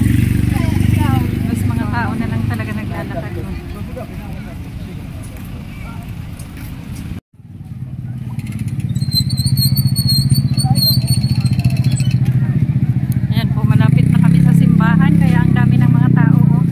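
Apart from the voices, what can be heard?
motorcycles passing on a crowded street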